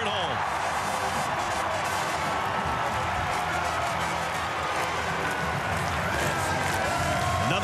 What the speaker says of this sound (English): Another sellout crowd here at Memorial Stadium